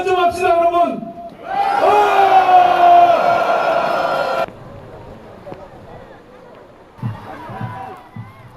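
A large crowd at a political rally roars and shouts in encouragement for the president, a loud sustained swell of voices that cuts off abruptly, followed by quieter background murmur and scattered calls.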